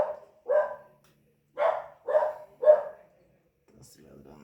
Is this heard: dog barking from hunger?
yes